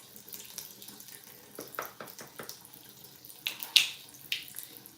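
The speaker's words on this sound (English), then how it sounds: "Wash the dish out." Tap water running into a sink as a dish is rinsed, with intermittent splashing and a few sharper clinks and sloshes toward the end; near and moderately quiet, no talking.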